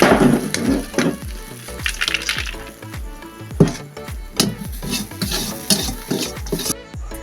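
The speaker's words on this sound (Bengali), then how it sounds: "আমি এবার নাবিয়ে নেব আমি ঢেলে নিচ্ছি থালার মধ্যে" A cooked spice mixture is scraped and poured from a pan onto a plate for a sandwich filling, giving repeated close scraping and clattering taps of utensil on metal, with faint sizzle in the background and no talking.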